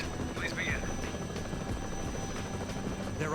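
A helicopter in flight in a video game, a steady low rotor drone throughout with faint whistling tones over it.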